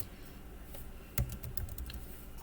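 Fingers type on a computer keyboard at a desk, a quiet run of light clicks with one sharper keystroke, then a quick uneven burst of taps, close and faint with no voices.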